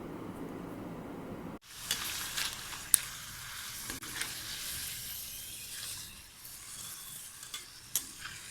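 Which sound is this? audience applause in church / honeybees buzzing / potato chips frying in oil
potato chips frying in oil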